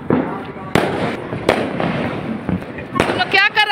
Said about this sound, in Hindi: एकदम शोर सुनाई दे रहा है, पूरा पटाखा छूट रहा है